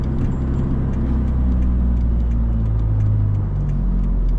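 A heavy truck loaded with four tons descends a mountain pass in second gear, its engine droning loud and close with a steady low rumble and slight fluctuations, no speech over it.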